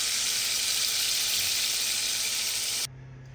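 A brined pork chop searing in hot oil in a pan, a loud, close, steady sizzle that cuts off abruptly near the end, with no talk.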